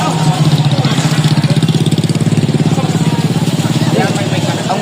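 A motorcycle engine idles close by with a loud, steady pulsing throb that holds evenly throughout, while people talk over it.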